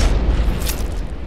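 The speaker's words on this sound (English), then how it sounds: "Epic explosions it seems." Booming explosions from the Happy Wheels physics video game, a loud, dense low rumble lasting the whole moment with a brief burst partway through, heard alone without talk.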